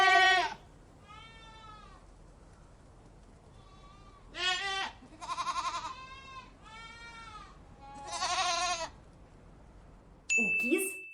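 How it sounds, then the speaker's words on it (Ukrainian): Several loud goat bleats on an eco-farm come in separate bursts with pauses between, close by, followed by a short clattering sound at the end. "Скажи мені, як каже коза?"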